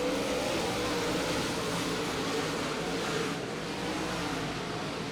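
DIRTcar Summit Modified race cars accelerating off turn four on a green-flag restart at Richmond Raceway, a steady, dense engine roar that holds loud throughout with no break.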